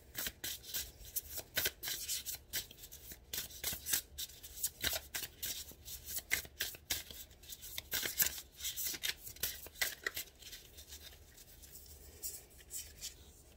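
Tarot cards are drawn and shuffled from a deck, making soft, quick papery flicks and rubs in irregular bursts, close but faint.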